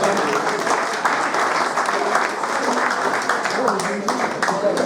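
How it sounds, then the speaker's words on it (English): A small audience at an intimate live music evening breaks into steady, dense applause, loud and close, sustained throughout with some voices mixed in. "Give yourselves a clap."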